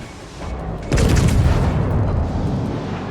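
A battleship in the World of Warships naval game fires a salvo of high-explosive shells: one heavy, loud boom that rolls into a long, dense rumble lasting several seconds.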